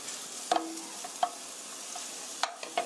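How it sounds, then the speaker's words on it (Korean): Shiitake mushrooms stir-fry in a hot pan, a soft steady sizzle punctuated by several sharp scrapes and clacks of a utensil against the pan, no talking. "표고버섯은 3분 정도 볶았더니 이렇게 맛있게 볶아졌습니다."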